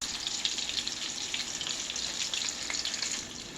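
Ground turkey patties brown in a skillet with a bright, continuous crackling sizzle, lively spatters popping throughout at a close, moderate level.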